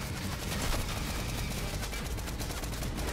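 Rapid gunfire aimed at a tank in Fortnite, a dense, continuous crackle of shots at moderate level running throughout with no pauses.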